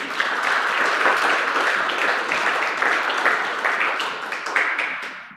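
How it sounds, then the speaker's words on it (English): A church congregation applauds steadily during a worship service, a dense wash of clapping that holds for several seconds and thins slightly toward the end. "I think we need to give him a round of applause for this"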